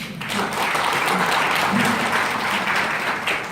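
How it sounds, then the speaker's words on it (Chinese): Audience applause at a leadership conference, a sustained wash of clapping from a crowd that stays steady and fairly loud throughout, with a few faint voices mixed in. "先给你们一个掌声"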